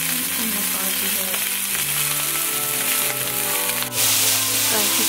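Pork sizzles and crackles steadily in a frying pan with no seasoning added, a loud continuous fry that is briefly disturbed near the end as the meat is shifted.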